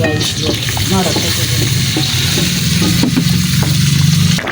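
Chicken and potatoes cooking together in a pot over a clay stove, a steady close sizzle and bubbling with occasional stirring scrapes running continuously throughout.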